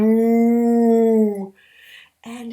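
A human voice imitates a cow's moo with one long, loud, steady low tone held for about a second and a half, then fades into brief softer voiced sounds.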